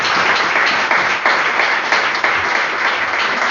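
A church congregation breaks into sustained applause during a Sunday morning sermon, a dense, steady wash of many hands clapping together with slight swells, filling the room without pause.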